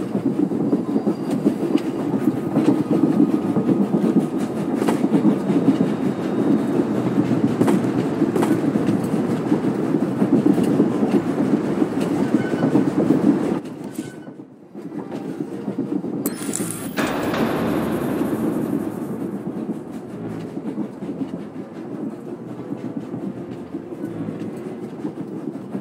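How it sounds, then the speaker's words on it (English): A steady rumbling clatter of an Umbaran supply train rolling on rails in Star Wars: The Old Republic, loud and continuous, with a brief drop-out partway through before the heavy rolling resumes. "Intel says they're on an Umbaran supply train headed for the capital city."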